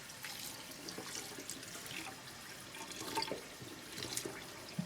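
Barramundi fish rinsed under a running kitchen tap: a faint, steady stream of water with small splashes and drips, heard close and alone.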